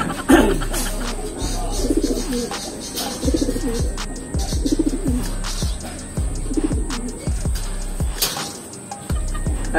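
Breeder racing pigeons of Jansen Vandenbroek stock coo in a loft, with repeated low, throaty rolling coos in a steady rhythm close by and a faint high hum behind them. No one speaks.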